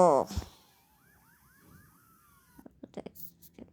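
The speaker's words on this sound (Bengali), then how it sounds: "পুলিশের গাড়ির শব্দ পাচ্ছেন আপনারা?" Police car siren in a Roblox horror game, a faint wailing whoop rising and falling several times in the background, with brief noises and a voice around it.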